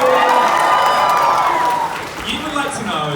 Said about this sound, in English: Round of applause for Yi, everybody.